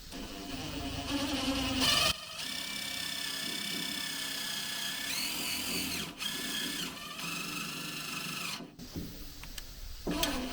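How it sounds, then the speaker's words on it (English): A power drill whines in several long, loud bursts separated by brief pauses, its pitch steady while running, with clicks and clunks between runs, drilling seat bolt holes to mount a Kubota MX6000 seat on a Kubota L4850DT tractor. "drill some holes where the seat bolts go."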